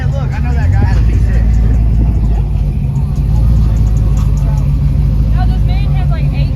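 Car engine with an aftermarket camshaft idling loud and close at a car meet, a steady low rumble with a lopey pulse, while people talk over it.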